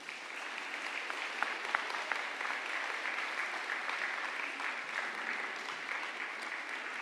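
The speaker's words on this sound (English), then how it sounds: "give them a round of applause" Steady round of applause from a large crowd at a university graduation ceremony for the Faculty of Arts and Society, dense and sustained throughout without letting up.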